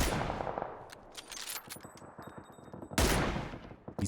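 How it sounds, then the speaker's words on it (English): Bolt-action rifle shots fired from range in the video game PUBG, with sharp cracks and echoing reports scattered across a busy, noisy battle soundscape of rapid clicks and distant gunfire. "These bolty shots from range always tricky, but when they land, they're devastating."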